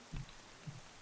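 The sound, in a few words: rain in the video game Wind Waker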